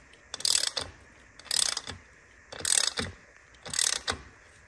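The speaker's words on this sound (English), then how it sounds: "I'm going to swap over to a quarter drive ratchet now" Quarter drive ratchet tightening screws on a BMW R NineT Racer's Akrapovic titanium high-rise link pipe exhaust, with four evenly spaced bursts of rapid pawl clicking, close and crisp, and no talking.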